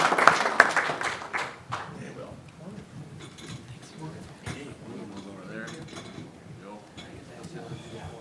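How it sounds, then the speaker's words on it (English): Attendees at a county board meeting give a short round of applause, a loud burst of clapping that quickly fades into murmuring voices and room noise. "Let's give them a round of applause."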